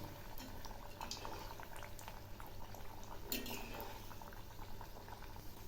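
Khaja pastry dough frying in hot oil for a sweet treat, giving a steady, quiet bubbling sizzle that runs throughout with small crackles and no talking.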